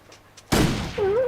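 A single hunting rifle shot rings out in the survival game The Long Dark, a sharp loud crack after a quiet lead-in that decays into a ringing tail, followed by a faint tonal whine.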